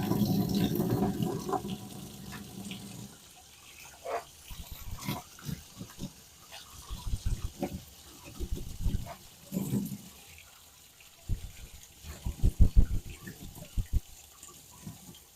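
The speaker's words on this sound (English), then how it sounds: "Rinse them till they're clean." Aquarium canister filter pads are rinsed under running water, with splashy bursts and gurgling in uneven pulses at close range and no speech over it.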